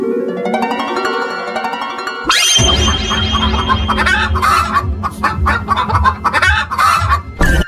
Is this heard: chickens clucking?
yes